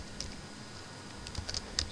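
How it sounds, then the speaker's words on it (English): Computer keyboard typing while entering database attributes, a few light scattered key clicks, close and fairly soft, with a quiet room background. "I type here"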